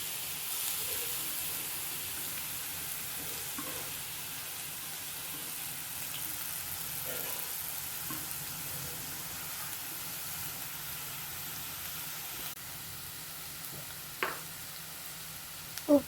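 Beetroot frying with onions and dried red chillies in a pan, a steady low sizzle running throughout with faint stirring scrapes and a couple of sharper clinks near the end.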